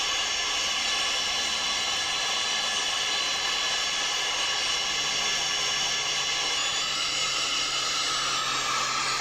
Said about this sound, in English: I couldn't imagine rolling on a big jet like that.